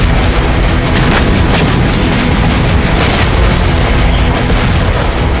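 An anti-tank missile attack on Metula in northern Israel, captured in news footage, produces a loud, sustained booming roar of blast noise and rumble that fills the whole stretch without letting up, with no voices.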